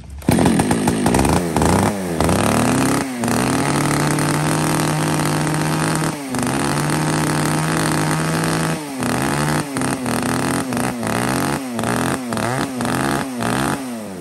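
An Echo long-handle 3400 chainsaw runs loud and close, its engine revving repeatedly in bursts between stretches of steady high idle, with no voices.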